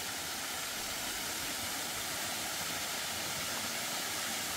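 A steady, dense roar of Jeolgu Falls, a 2–3 m waterfall in Juwangsan, Korea, falling into a mortar-shaped hollow, constant and fairly loud throughout with no pauses or voices.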